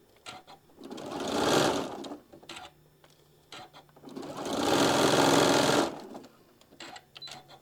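A sewing machine stitches quilt pieces in two long, loud runs of rapid mechanical whirring, with short quiet pauses and a few brief taps between them.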